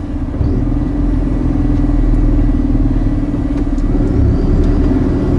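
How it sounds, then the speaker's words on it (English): Inside an Iveco Eurocargo 7.5 ton truck while it drives, a steady low engine rumble and road drone hold at constant loudness, with no talk. "I'm currently driving an Iveco Eurocargo"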